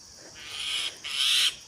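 An Asian koel, just rescued from a cat, gives two fairly loud, close bird calls, the second longer and stronger, with a short pause between them and no talking.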